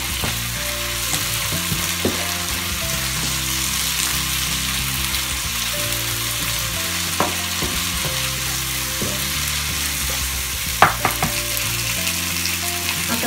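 Ginger garlic paste fries with prawn masala on a hot tawa, a steady close sizzle with occasional stirring scrapes and light clinks, alone without voices.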